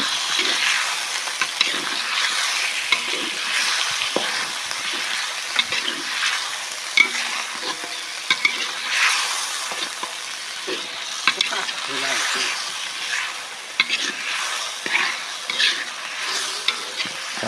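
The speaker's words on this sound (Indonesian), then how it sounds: "langsung digoreng sama bumbu" Beef trimmings fry with spice paste in a pan, giving a loud continuous sizzle with frequent spatula scrapes and taps while stirring, close up, with faint speech occasionally underneath.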